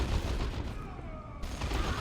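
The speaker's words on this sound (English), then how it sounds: "Fire Prism does have some advantage right now, still blasting away at these orcs" An Eldar Fire Prism blasting orcs in Warhammer 40K Dawn of War 2, heavy energy shots and rattling battle fire in a short, loud burst, briefly dipping in the middle before resuming.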